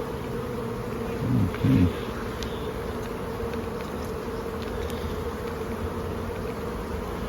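Honey bees buzzing in a steady, dense drone at an open beehive during an inspection, with a brief low murmur of a voice early on.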